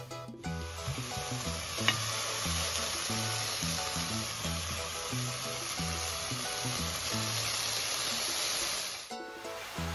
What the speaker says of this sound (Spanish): Una vez que tengamos hecha ya esta pastita con la cebolla y lo que es el pimiento, comenzamos a añadirle el pollo.